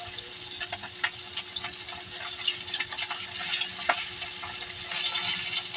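Water poured into a hot pan of frying garlic gives a steady, fairly loud hissing sizzle that holds for the whole stretch, swelling slightly near the end, with no one talking.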